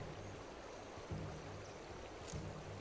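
Water flows steadily in a stream in This Land Is My Land, a soft continuous rush with faint low thumps underneath, quiet and with no voices.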